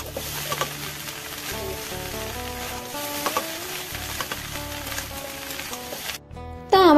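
Fish head muri ghonto sizzles and fries in a pan while being stirred. A steady sizzle runs throughout, with scraping stir strokes close by and faint background music.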